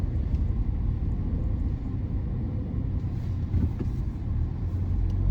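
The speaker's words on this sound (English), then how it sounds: "try and get in with all this Monday morning traffic" Steady road traffic on a Monday morning heard from inside a van, a continuous low rumble of engine and tyre noise with no talk.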